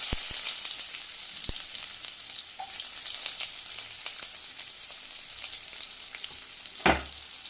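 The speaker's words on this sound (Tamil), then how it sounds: "உளுந்த பருப்பு கொஞ்சம் பொரியட்டும் இப்போ பொரிஞ்சிச்சு வெங்காயம் போட்டுடலாம்" Onions and urad dal fry in a pan with a steady, crackling sizzle, broken by scattered clicks of stirring and a louder clatter of a utensil near the end.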